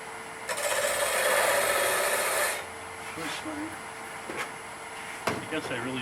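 Wood turning on a lathe with a bedan, a thick cut-off tool, at a woodturners' meeting: a loud, steady scraping rasp for about two seconds, then quieter lathe hum with scattered light knocks and clicks.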